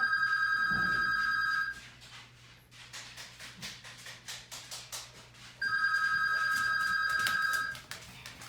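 A telephone rings in a quiet room: two long bursts of bright electronic ringing separated by a pause, loud and close, with a soft rhythmic tapping or scratching in between.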